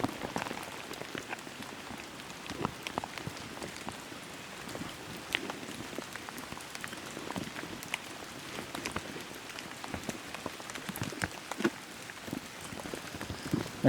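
Rain falls outdoors in the countryside, a dense, steady patter of drops striking nearby surfaces with scattered sharper drips, continuous and moderately loud with no voices.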